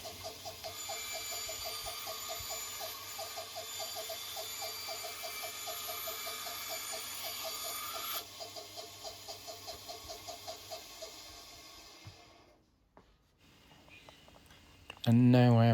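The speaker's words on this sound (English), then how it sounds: "for this material I'm going to use the bandsaw" A bandsaw cutting scrap wood for a kitchen shelf, with a steady motor whine and rhythmic cutting, close by. It eases off partway through and stops, followed by a brief sharp noise at the end.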